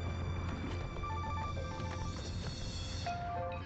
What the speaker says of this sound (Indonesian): HP-ku terus berdering, bolehkah aku angkat telepon?